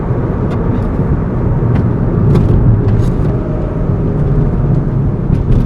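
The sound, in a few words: 2008 Hyundai Tiburon driving with new intake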